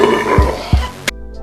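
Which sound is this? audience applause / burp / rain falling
burp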